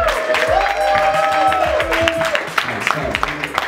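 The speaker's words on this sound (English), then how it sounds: "everyone get a hand and round of applause for Ricky Gutierrez." Audience at a business grand opening event clapping and cheering for a speaker, a brief dense burst of applause with a few voices in the crowd.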